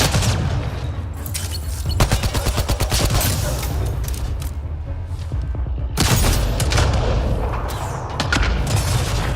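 Rapid bursts of sniper and weapon fire from Mass Effect Andromeda crack and boom in loud clusters, with a dense barrage around the middle and another volley near the end over steady battle rumble.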